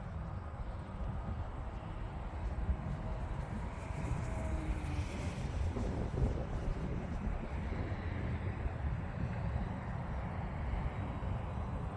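Gusty outdoor wind buffeting a microphone at an RC flying session with a Parkzone P-51 Mustang, a constant low rumbling roar that swells and eases throughout, with no distinct engine or voice standing out.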